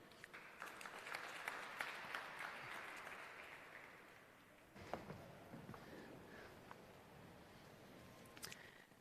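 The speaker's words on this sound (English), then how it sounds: "A round of applause, please, for Alton Forte." Scattered audience applause for a speaker at a corporate sponsorship announcement, fairly faint and distant, with a few sharper individual claps standing out as the clapping thins midway then briefly picks up again.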